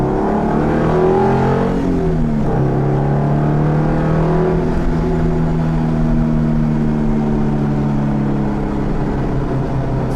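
A Subaru-powered Beck Coupe with a 5-speed gearbox accelerates, its exhaust note climbing steadily in pitch through the rev range, then dropping with a shift and pulling again, loud and continuous from inside the car with no talking.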